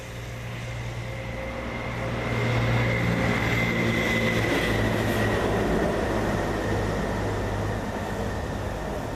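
A Kubota L2500 three-cylinder diesel tractor cranking on starting fluid makes a loud, steady low droning rumble close by. It swells after two seconds and keeps going without pause.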